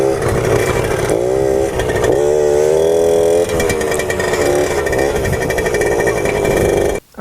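A small Suzuki JR50 motorcycle engine in first gear buzzes loudly and continuously up close, its pitch rising and falling with repeated short throttle blips before cutting off abruptly at the end.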